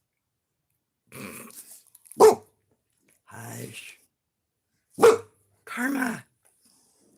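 A dog barks and growls in short bursts, several separate outbursts spread out with pauses between them, mixed with a person's voice speaking.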